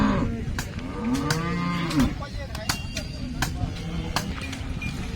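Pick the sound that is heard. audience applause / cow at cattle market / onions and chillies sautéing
cow at cattle market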